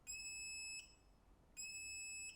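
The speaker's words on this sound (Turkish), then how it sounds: "çok yüksek şeyler çıktığımız için alarm veriyor" A high-pitched electronic high-RPM warning alarm tone from a video game sounds twice in long steady bursts, separated by a short pause, fairly faint.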